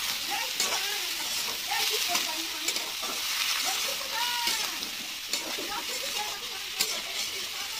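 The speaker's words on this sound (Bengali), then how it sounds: "এই যে শসা আর আলু কেটে রাখা এগুলো এখন ভেজে নেবো একটু" Sliced cucumber and potato pieces frying in a pan make a continuous moderate sizzle with scattered crackles and brief stirring scrapes, close and alone without talk.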